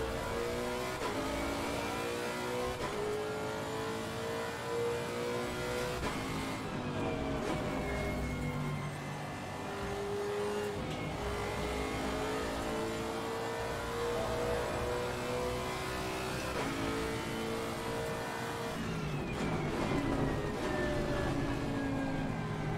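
A race car engine in Assetto Corsa Competizione revs hard and continuously, pitch climbing and dropping through gear changes with brief lifts, loud and close throughout.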